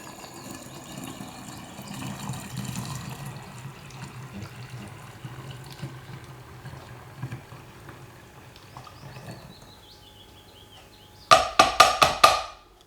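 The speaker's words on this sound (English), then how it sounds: "it's time to pour it in a bottle with the help of a funnel" Homemade Kahlúa pours through a funnel into a bottle as a soft, steady liquid trickle and gurgle. A few sharp clinks of glass follow near the end.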